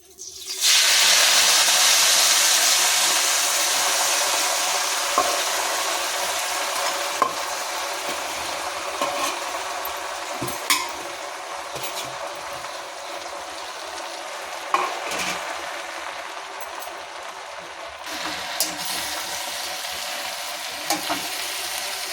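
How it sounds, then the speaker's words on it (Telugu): Sorrel (gongura) leaves sizzle steadily in a little hot oil for a sorrel curry, a loud bright frying hiss that settles slightly, broken by occasional stirring clicks and pops, with no talking. "కొద్దిగా ఆయిల్ వేసుకొని గోంగూర పెట్టుకోవాలి"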